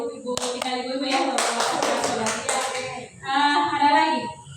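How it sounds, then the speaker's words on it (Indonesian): Clapping from an audience at a school training session sounds out in a few sharp claps that build into a brief cluster, mixed with a voice carrying tonal, sung or drawn-out speech over it and after. "Luar biasa, tepuk tangannya dulu Ibu ya."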